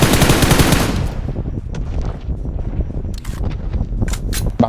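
Rapid automatic gunfire in the mobile game PUBG Mobile, a loud dense burst at the start that fades into scattered sharper shots and clatter over the following seconds.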